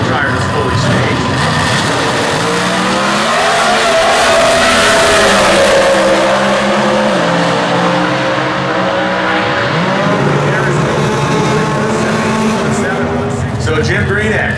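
A Comp Eliminator drag race car with a Camaro-style body at the US Nationals in Indy, engine roaring at full throttle with a loud, continuous, rasping blast that rises in pitch, heard nearby with no clear voices over it.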